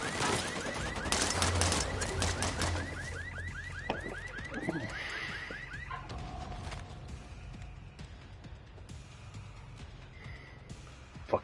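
Pistol gunfire in a video game: a rapid burst of sharp shots and clattering reports early on, then scattered quieter cracks and mechanical clicks over a low background, with a final sharp pop at the end.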